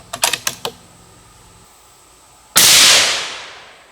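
A single sharp, loud 6.5 Creedmoor rifle shot with 140gr Hornady BTHP handloads cracks out after a few light mechanical clicks, its blast decaying over about a second.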